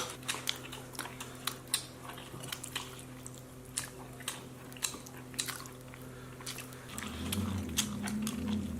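Crunchy green beans dipped in sauce being bitten and chewed close up: a steady series of crisp, sharp crunches at a regular pace, with a low hum and some clatter building toward the end and no talking.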